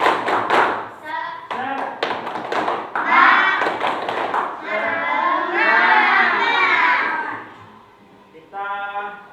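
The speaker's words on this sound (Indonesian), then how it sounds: "tapi sebelumnya kita tepuk semangat dulu." A group does rhythmic spirit clapping at a school P5 session: a quick run of sharp claps, then chanted voices with more claps woven in, with a brief burst of clapping again near the end.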